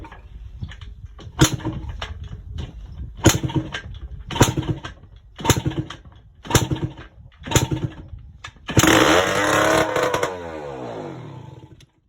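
Yamaha Blaster two-stroke ATV engine with the choke on and the exhaust off, being kicked over: a series of sharp mechanical pulls and clatters roughly every second, then a loud raw burst of engine noise that fades out.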